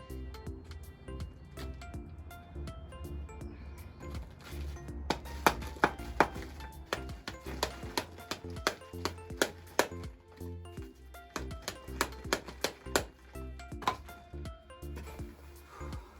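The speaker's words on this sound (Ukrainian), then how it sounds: "Кирпіч зразу оббиваю, складаю." Bricks from a century-old house being knocked clean of old mortar and stacked, giving a series of sharp, irregular knocks and clinks that grow denser midway, close by over a steady low background hum.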